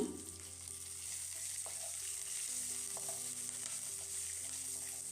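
Garlic and curry leaves frying in a pan for a fresh coconut chutney, giving a soft, steady sizzle with a few faint clicks, quiet and with no talk.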